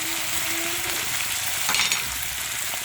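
Chopped vegetables with freshly added cucumber sizzle and fry steadily in a pan on the stove, a constant close hiss with a brief stir of the pan near the end, no talking.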